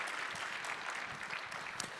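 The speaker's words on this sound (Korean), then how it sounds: "우리 세례받은 새 아기를 뜨거운 박수로 축복해 주실까요?" A church congregation applauds a newly baptized baby during a Sunday worship service, a soft, even wash of clapping heard from a distance.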